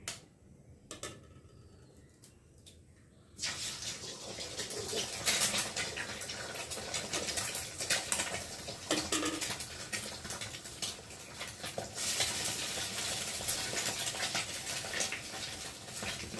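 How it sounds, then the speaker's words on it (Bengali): Two eggs are cracked into a pan of hot oil. A few quiet taps come first, then a loud, dense sizzle bursts in after about three seconds and crackles on steadily up close. "আর আমি এখন দুটো ডিম ফাটিয়ে আগে ভালো করে ভেজে নেব"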